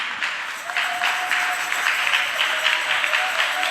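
A church congregation at a worship service breaks into sustained applause, a dense wash of clapping from many hands that holds steady for several seconds, with a few voices faintly mixed in.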